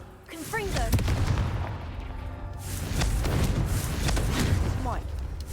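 A Confringo blasting spell explodes in Hogwarts Legacy, with booming, gunfire-like bursts over continuous game noise while a player talks throughout.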